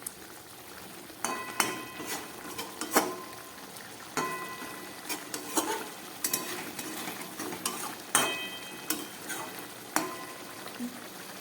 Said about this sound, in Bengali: তরকারিটা একদম ফুটে উঠেছে। আলুর সঙ্গে ভালো করে মিশিয়ে দিচ্ছি।